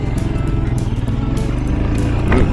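Royal Enfield Scram 411 motorcycle engine, made in India, running with a close, steady, throbbing single-cylinder pulse that builds slightly toward the end.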